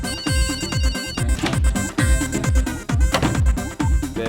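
A phone ringtone plays during a call in a Telugu comedy film scene, a loud repeating electronic melody in regular short phrases with no voices over it.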